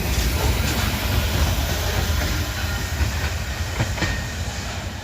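A freight train with grain hopper cars rolls steadily past at close range, a loud continuous rumble with rattling and faint clicking of wheels, no voices.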